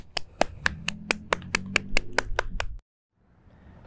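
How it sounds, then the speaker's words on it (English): At a church worship service, a small group claps for graduates in about a dozen evenly spaced, crisp beats that stop abruptly, leaving near silence. "let's all give a round of applause for these graduates"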